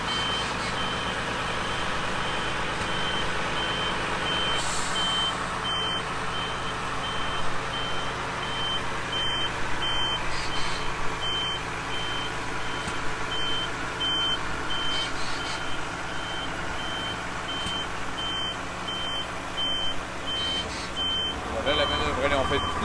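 A truck with a crane arm finishing an unloading manoeuvre gives steady, evenly spaced reversing beeps over a continuous engine rumble, fairly close, with someone talking over it.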